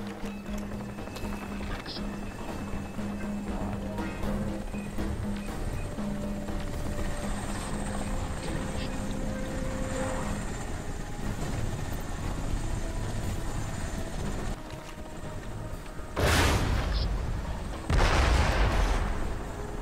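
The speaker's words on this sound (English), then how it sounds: "Chopper." Military helicopter in the shooter game Crysis, a steady rotor drone running through the whole stretch with gunfire and blasts layered in, ending with two loud bursts near the close.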